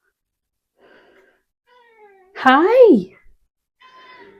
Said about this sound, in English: I don't know if you can all hear her meowing.